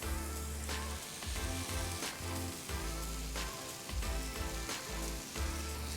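Dalia khichdi tipped into a pan of frying spices gives a steady, close sizzle and crackle, with a few soft thumps and stirring scrapes on top.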